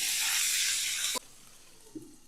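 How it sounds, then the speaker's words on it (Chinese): Fried pork meatballs for red-braised lion's head dropped into boiling seasoned soy broth, a loud rushing hiss of steam that cuts off abruptly, followed by a quieter simmer and a small splash, no talking. "水烧开以后，倒入我们炸好的丸子"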